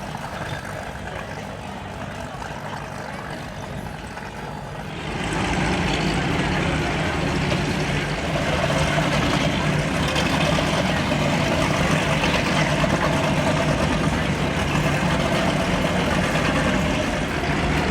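Powerboat engines on a poker run in Key West idle low and rough at first, then swell into a loud, steady roar as the boats take off toward open bay water, with faint voices under the engines.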